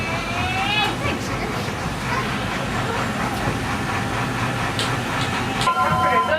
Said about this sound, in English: It's a choo-choo train.